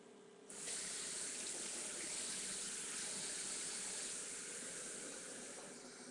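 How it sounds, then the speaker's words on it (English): Hot water gushes from a kitchen tap after it is turned on, a sudden jump into a steady, full hiss of running water that holds close and constant. "I turn on my water on my tap as hot as I can get it"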